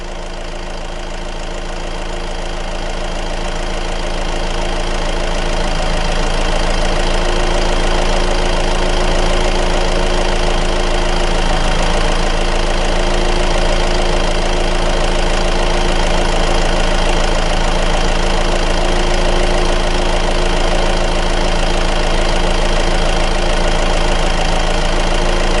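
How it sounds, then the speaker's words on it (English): Honda CR-V engine idling steadily with a constant low drone and rattly mechanical texture, fading up over the first few seconds and then holding loud and even throughout, no voices. "I'm going to increase the engine RPM"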